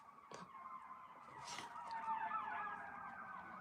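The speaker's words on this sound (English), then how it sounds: "I have a siren in the background" An emergency vehicle siren wails in the distance, its rising and falling tone sweeping steadily behind a quiet indoor room, faint but continuous with a couple of small knocks nearby.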